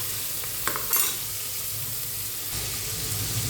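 Vegetables for biryani are stirred in a hot pan, a soft steady sizzle with a few scraping strokes of a spoon near the start.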